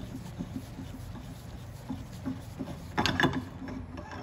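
A valve adapter on a TRT or NTRT valve is unscrewed by hand after it is loosened, giving faint mechanical rotation and light clicks and then a brief louder rattle near the end, with no talking.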